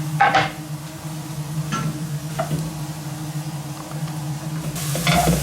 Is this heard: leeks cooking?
yes